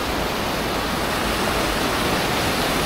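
Steady rushing of a flowing stream being waded across, a constant broadband wash of water close by with no voices over it.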